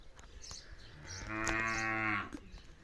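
A six-tooth Siddhapur-line breeding bull on a farm near Sangola, Solapur, Maharashtra lets out one long, close, resonant moo lasting about a second, with quiet farmyard background before and after.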